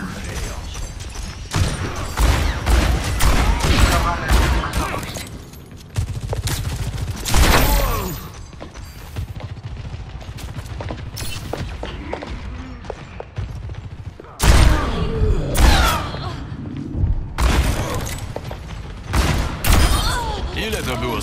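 Bursts of Overwatch gunfire from Cassidy crack out in clusters between quieter stretches, loud and sharp, with mechanical clanks and a voice talking at times.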